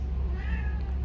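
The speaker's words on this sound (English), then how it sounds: "That's my cat." A pet cat gives one short, clear meow indoors, close and moderately loud, with a steady low hum beneath and no talking over it.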